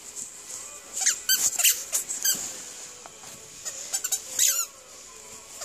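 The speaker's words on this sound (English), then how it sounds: "The ball squeaks, Jacob. That ball squeaks." A squeaky rubber ball toy gives repeated sharp squeaks in irregular bursts, some clustered and some spaced apart, close by and loud with no talking.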